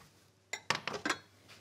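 A large frying pan handled in a kitchen, giving a few sharp metallic clanks and clinks in quick succession, close and moderately loud, with no talking.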